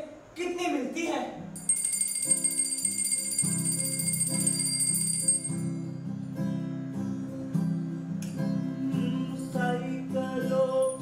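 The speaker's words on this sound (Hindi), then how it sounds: "इस घंटी की आवाज पिताजी के साइकिल की घंटी से कितनी मिलती है" A bell resembling a bicycle bell rings with a bright, sustained shimmer that holds for a few seconds, then fades, over a steady tonal background.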